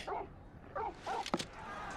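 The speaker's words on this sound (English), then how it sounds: "Listen to your smart, intelligent dog." A dog in the video game Final Fantasy XVI gives several short barks and yips, spaced out over two seconds at moderate volume, with faint background game sound.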